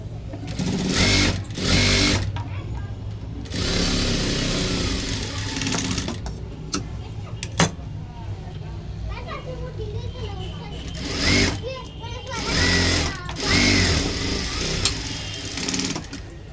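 A sewing machine stitches a size 36 blouse in steady, rapid, whirring bursts that start and stop, up close, while someone talks over parts of it.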